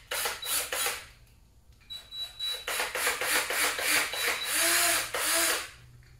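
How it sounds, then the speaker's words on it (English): A power drill drives screws straight into a wooden kitchen cabinet door, with repeated loud close whirring bursts separated by short pauses and a rising motor whine near the end. "put them in directly, the screws directly into the wood"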